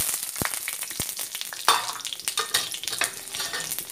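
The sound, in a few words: garlic frying in hot mustard oil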